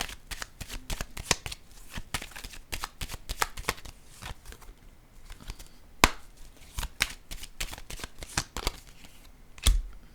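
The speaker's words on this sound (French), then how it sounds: "je vais piger une carte" A tarot card is pulled from a deck amid a steady run of sharp papery card flicks and riffles, close and crisp, with a louder snap near the middle and another near the end.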